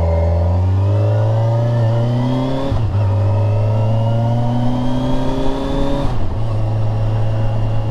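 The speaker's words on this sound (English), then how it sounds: "This engine is so smooth and it's so tractable." A 2021 Kawasaki Versys 1000 LT SE+ inline-four motorcycle engine pulls hard through the gears, a smooth rising howl broken by two quick shift dips before climbing again, close and loud with no voices.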